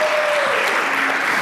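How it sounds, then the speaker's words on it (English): Applause from a conference audience greeting Paul Kaiser, CEO of DentalXChange, a steady dense wash of clapping that fills the whole moment at even loudness. "give him a round of applause"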